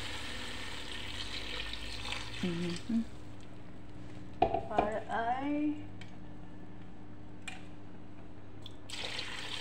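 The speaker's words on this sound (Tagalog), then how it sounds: "Lagyan natin siya ng tubig." Water poured from a tap into a pot for pork sinigang, a steady splashing pour with a brief louder burst midway, while a person talks over it in a home kitchen.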